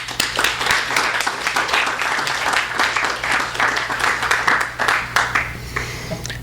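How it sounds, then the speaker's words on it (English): Audience applause for a speaker at a literature event for the Cambridge Companion to the Literature of Los Angeles, steady dense clapping from a sizable crowd, sustained and fairly loud over a low hum. "we'll ask you to give him another round of applause"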